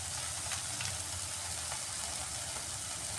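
Masala frying and being stirred in a pan for omelette curry, a steady close sizzle throughout with faint scraping, no talk.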